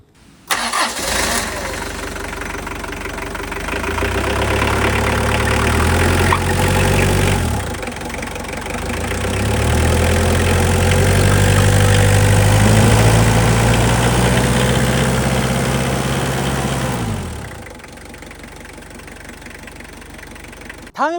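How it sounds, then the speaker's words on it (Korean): A Hyundai Galloper 1 with a turbo diesel engine starts, idles and revs, its loud, close mechanical clatter rising and falling across two long surges before settling back, with no talking. "엔진 소리 한번 들어보도록 하겠습니다."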